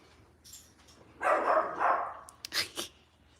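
A Goldendoodle on a farm gives a few soft barks and yips at moderate distance, faint and brief, with no speech over them.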